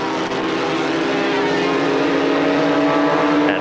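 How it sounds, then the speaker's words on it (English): Formula 3 race cars at Hockenheim during the wet 1989 German F3 Championship round: a continuous loud engine drone at high revs, steady and unbroken, with no speech. "Kaufmann gave it 10 tenths through the chicane, forcing Wendlinger to brake sharply and through the German wet"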